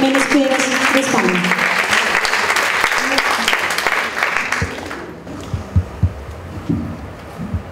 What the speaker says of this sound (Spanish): Recibamos con fuertes aplausos a Elena Pilar Jiménez Pérez de España.